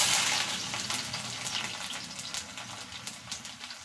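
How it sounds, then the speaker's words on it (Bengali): Garlic, with cumin, crackles in hot mustard oil in a wok, a dense sizzling hiss that starts loud and slowly eases, sounding close and without any voices. "রসুনটা একটু ভাজা ভাজা হয়ে গেলে দিয়ে দেবো কুচানো পেঁয়াজ।"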